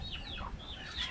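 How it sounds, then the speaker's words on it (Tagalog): Chickens clucking and calling close by at a farm, a few overlapping bird voices rising and falling over steady low background noise, with no talk. "Oh, ang daming manok dito."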